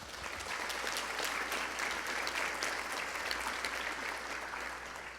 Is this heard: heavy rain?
no